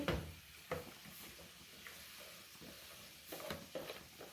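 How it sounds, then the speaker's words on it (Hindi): Chicken sautéed in a pan for biryani gives a quiet sizzle under soft, irregular stirring scrapes and clinks, all faint and close, with no talking. "अब इसको चिकन को भून लेंगे"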